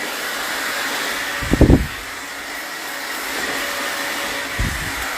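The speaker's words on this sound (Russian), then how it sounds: "Я перекрикиваю фен, у меня горло уже просто не такое." A hair dryer blows with a constant airy roar, with a few brief low thumps and bumps over the top.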